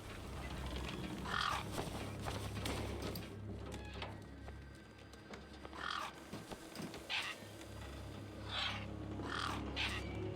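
Scavenger gang birds in the Beneath a Steel Sky video game caw repeatedly in short harsh bursts, spaced irregularly over a steady low ambient drone, some calls near and others farther off.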